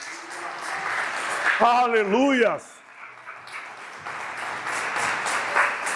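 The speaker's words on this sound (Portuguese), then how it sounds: "Aplaude o Senhor porque Ele merece nessa noite." Applause and scattered cheering from a church congregation, with a loud sung shout rising briefly over the clapping before the noise continues.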